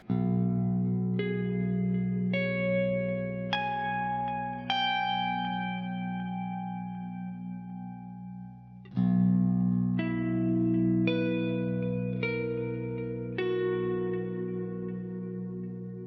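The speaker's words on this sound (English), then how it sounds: "we're using a lot of chorus, delay and reverb to get a very kind of" Sustained electric guitar chords through an Amped ICON's Ambient Dream preset ring out one after another, washed in chorus shimmer, echoing delay and spacious reverb, with a fresh strum partway through.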